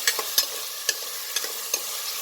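Avarekalu beans and onion frying in oil, a steady close sizzle punctuated by several irregular scraping stirs and light knocks of a spoon against the pan.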